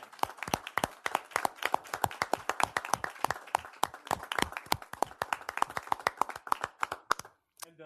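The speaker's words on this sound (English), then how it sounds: "we'd like to give you a round of applause because we're very happy for you to be here" A small group at a city council committee meeting in Lancaster claps to welcome guests, with distinct individual hand claps in a quick, uneven patter, close and fairly sparse, ending abruptly.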